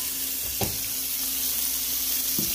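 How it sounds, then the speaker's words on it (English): Garlic frying in a hot pan for arroz mamposteao gives a steady close sizzle throughout, with brief clinks and stirring knocks. "I'm going to take a spoon of garlic. Let's go ahead and throw that in there"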